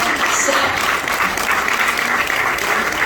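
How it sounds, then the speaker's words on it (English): An audience at a Pennsylvania rural health award event breaks into loud, sustained applause that stays steady and dense throughout, with faint crowd noise mixed in. "Give that guy a hand of applause."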